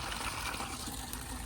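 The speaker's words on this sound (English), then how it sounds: "Paul just turned the water on just so we could get something to wash our hands off with before lunch." Water running steadily from a turned-on outdoor tap at a dirt-work building site, a continuous close splashing hiss with no talk over it.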